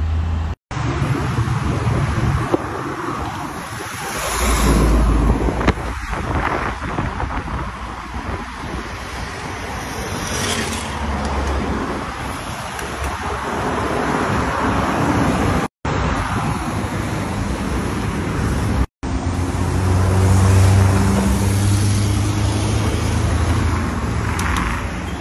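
A car driven on the road, heard from inside as a continuous rumble of engine and road noise with heavy wind buffeting, brief dropouts, and a low drone swelling near the end.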